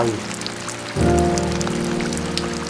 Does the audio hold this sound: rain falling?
yes